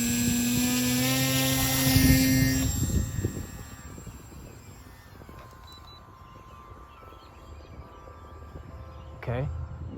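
A Flite Test Scout RC airplane on its maiden flight gives a high, whining electric-motor buzz that is loud at first, then fades as it flies away. A brief whine returns near the end.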